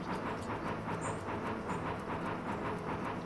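Game train from Bounty Train rolling along at speed, a steady rumbling hum with regular clickety-clack beats of the wheels, continuous and fairly quiet with no talking.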